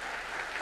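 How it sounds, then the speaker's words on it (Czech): Audience applause during a homily at Svatá Hora in 1999, a brief dense burst of clapping from a large crowd. "Ale vy nemusíte tleskat."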